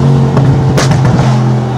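A tuned Mercedes G63 AMG drones steadily, its exhaust letting out one sharp, loud bang partway through, close and unaccompanied by talk.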